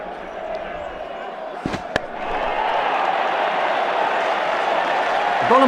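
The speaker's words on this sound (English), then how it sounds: "The crowd really enjoyed that one." A stadium crowd in the Brian Lara 07 cricket video game cheers in a broad, loud roar that swells after a couple of sharp knocks, building steadily toward the end.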